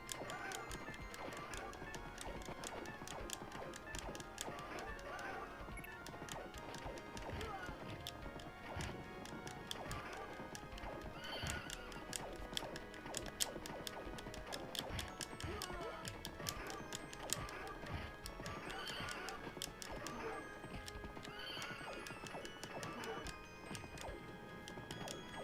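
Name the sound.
horse galloping and neighing in video game Knights of the Round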